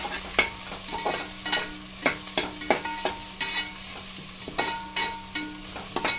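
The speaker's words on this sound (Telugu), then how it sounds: "పసుపు వేసుకొని బాగా కలుపుకోవాలండి" Turmeric being stirred into a beans and tomato curry in a pan, a spoon scraping in irregular sharp strokes, several per second, over a faint sizzle, close and with no voices.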